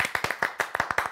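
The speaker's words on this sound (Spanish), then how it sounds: "Un aplauso para Britney." A comedy show audience claps in a short burst of roughly ten distinct, fairly loud hand claps, sharp and close-sounding, with no talking over them.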